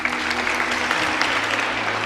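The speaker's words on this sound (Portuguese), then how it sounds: "Uma salva de palmas." Congregation at a church revival service breaking into steady, dense applause that fills the space evenly from start to finish, with no voices standing out.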